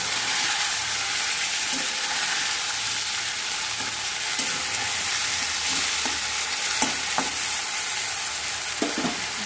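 Ginger, garlic and green chilli paste sizzles steadily in hot oil in a frying pan, a continuous close hiss with occasional stirring clatters and crackles, no voices.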